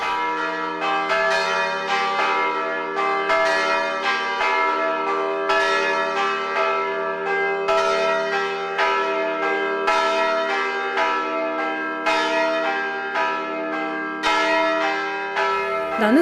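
Church bells ring loudly and continuously, overlapping strokes at a regular pulse, rich sustained tones blending into a full peal with no talk.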